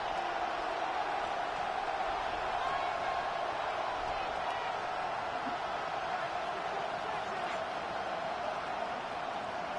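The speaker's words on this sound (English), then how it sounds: "This crowd turning up the decibel level." Stadium crowd in a football video game on 3rd and long, a steady loud roar of thousands of fans filling the whole stretch without letting up, with a commentator faintly talking within it.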